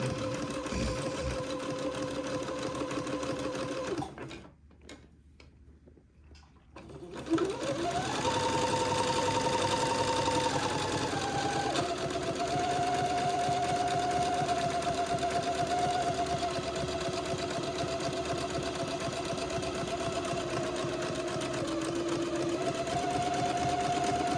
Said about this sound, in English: just begin to zigzag to finish off this entrecot seam